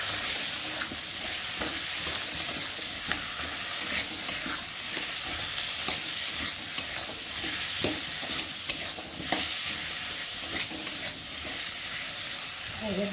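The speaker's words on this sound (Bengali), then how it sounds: "লঙ্কার গুঁড়ো, হলুদ গুঁড়ো আর স্বাদ মতো নুন দিয়ে মশলাটা ভালো করে কষিয়ে নেব।" Masala of ground onion, chili powder, turmeric and salt sizzles steadily in a pan while a spoon scrapes and stirs it with irregular knocks, close and continuous with no talk.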